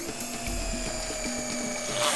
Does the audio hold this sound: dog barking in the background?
no